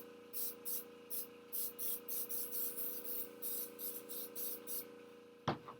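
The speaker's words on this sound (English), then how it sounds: "This is how you airbrush yourself." An airbrush spraying paint for cosplay makeup gives about a dozen short, regular bursts of hissing spray over a faint steady hum, then one sharp click at the end.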